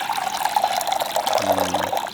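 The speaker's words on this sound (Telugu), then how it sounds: "పోసిండ్రా నీళ్ళు" Water pours steadily into a container, a continuous splashing gurgle that stays close and fairly loud throughout.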